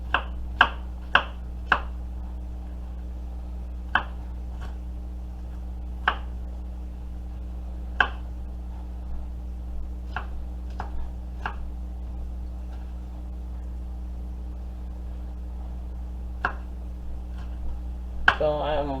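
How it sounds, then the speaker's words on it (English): Knife chopping peppers on a cutting board in a home kitchen, a string of sharp, distinct chops, some spaced irregularly and others in quick bursts, over a steady low hum. "So I am chopping my peppers."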